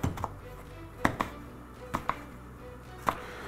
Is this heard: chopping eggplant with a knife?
yes